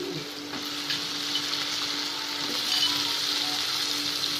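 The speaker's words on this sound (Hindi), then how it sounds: "अब इसमें हम ये आलू डाल देंगे।" Potatoes sizzle steadily in a hot frying pan of amaranth greens bhaji, a continuous close hiss with no one speaking.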